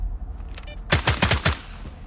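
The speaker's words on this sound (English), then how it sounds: "Kluya, fire!" Automatic gunfire in the Stalker 2 video game, a sharp rapid burst of about five or six close, loud shots after a brief quiet lead-in with faint background sounds.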